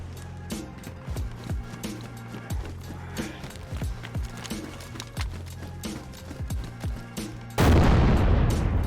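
Gunfire in the video game DayZ: repeated muffled shots and thuds at irregular intervals, fairly distant and low, followed by a sudden loud rushing burst at the end.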